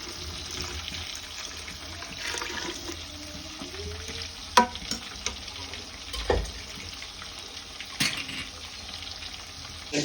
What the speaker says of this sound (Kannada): ಈಗ ಮಸಾಲೆಗೆ 2 ಲೀಟರ್ ಬಿಸಿನೀರ್ನ ಹಾಕೋತಾ ಇದೀವಿ